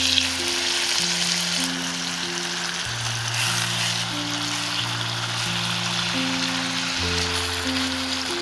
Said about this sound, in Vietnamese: Sau đó mình cho cá đã ướp vào, chiên sơ cho săn hai mặt là được nha.